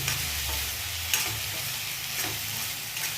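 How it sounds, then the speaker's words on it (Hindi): Paneer and onions are stirred together in a frying pan, a continuous sizzle with scraping spatula strokes and a few sharp clinks, close and steady with no talking. "अब डाल देते हैं हम अच्छे से पनीर को प्याज के साथ में मिला लेते हैं"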